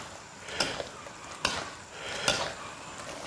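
A spatula stirs eggplant in a wok for fish-fragrant eggplant, cooking in oil with aromatics. Three sharp scrapes, evenly spaced, rise over a soft, steady hiss.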